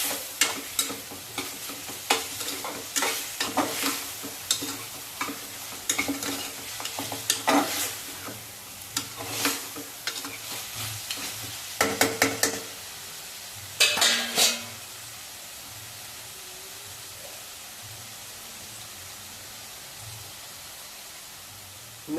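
Mutton fries in oil with chili powder as a spoon stirs and scrapes the pan in irregular bursts over a low sizzle. The stirring stops after about fifteen seconds and only a faint, steady frying hiss remains.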